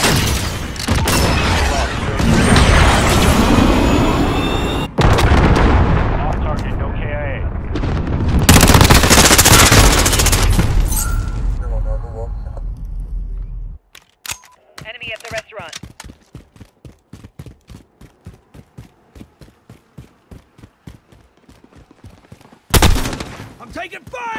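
Gunfire in Call of Duty: Modern Warfare on the St Petrograd map: loud, dense automatic bursts and booms for about fourteen seconds, then quieter rapid rhythmic clicks and pops, ending with one more sharp burst.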